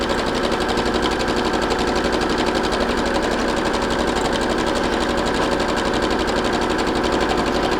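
A sewing machine runs in one steady, fast mechanical whir as elastic is stitched into a leggings waistband, loud and close for the whole stretch, with no voices.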